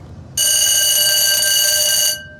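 The original dive bell of the U-505 submarine rings loudly and continuously for nearly two seconds, a harsh steady clang that cuts off abruptly, with no talking.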